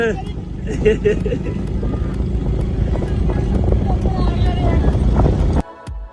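A motorcycle rides along a road with a steady, loud, low engine drone and heavy wind buffeting. Riders talk over it, and the sound cuts off abruptly near the end.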